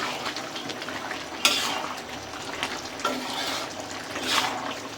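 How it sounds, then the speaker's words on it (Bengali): Broiler chicken with garam masala is stirred in a frying pan for a dish with tender bottle gourd. A steady, close sizzle runs under repeated scraping strokes of the spoon, with a few sharper knocks against the pan. "গরম মশলা। ভালো করে নেড়ে ছেড়ে মিশিয়ে নেব।"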